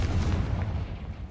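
A blasting fire spell from the Hogwarts Legacy video game, a dense low rumbling boom that sustains loudly through the whole moment with no voices.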